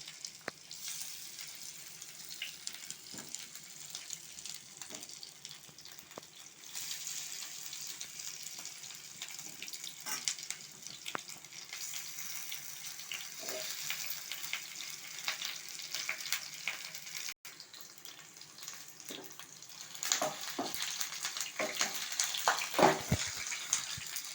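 Kathi kabab skewers frying in oil on a tawa, a quiet, steady crackling sizzle with occasional louder pops and scraping bumps, rising toward the end, no voices.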